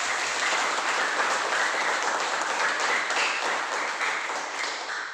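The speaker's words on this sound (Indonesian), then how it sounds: "Untuk itu dulu kasih aplaus buat kalian semua" Steady, dense applause from a classroom of students fills the whole stretch at even strength, with no voices over it, tapering only slightly at the very end.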